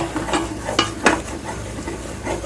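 Eclair choux dough being stirred and cooked in a pan, heard as close, steady scraping and sloshing strokes with a few sharper swipes and a light sizzle underneath, no voices.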